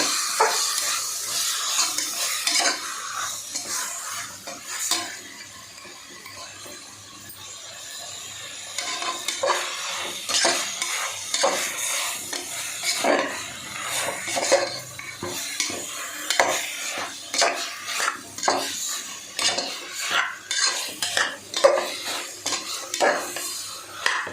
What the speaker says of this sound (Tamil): இப்போ நல்லா எண்ணெய் பிரிகிற வரைக்கும் நல்லா வதக்கி விடலாம்.